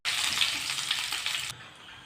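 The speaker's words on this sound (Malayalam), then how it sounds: "സവാളയും ചേർത്ത് നന്നായിട്ടൊന്ന് വഴറ്റിയെടുക്കണം" Onions sautéing in a pan for a jackfruit curry give a steady, close sizzling hiss for about a second and a half, then it drops to a fainter simmer.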